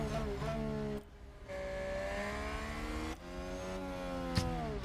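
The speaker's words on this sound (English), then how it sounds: "I didn't realise that they had different sounds for the different powertrains." Red Bull-powered Formula 1 car engine in the F1 Manager 2022 racing game, a steady high-pitched whine with rising harmonics, briefly dropping off around the one- and three-second marks before resuming, loud and close with no talk.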